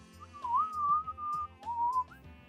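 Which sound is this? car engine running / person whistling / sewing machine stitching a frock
person whistling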